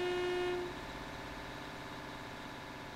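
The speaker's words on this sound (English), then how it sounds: "I think I'll just do a little thing of this train leaving." A train departs in Train Simulator 2017, opening with a clear horn toot for about half a second before settling into a steady low engine drone that continues alone.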